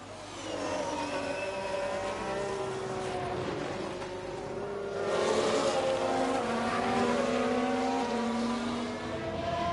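Formula 1 cars in F1 Manager 22 at Paul Ricard whine past in overlapping, continuous engine tones that rise and fall in pitch, loud and sustained with no pauses.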